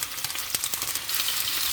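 Mushrooms sizzle and fry in hot olive oil with tomatoes, a close, bright crackling hiss with a few sharp pops in the first second, then settling into a steady sizzle.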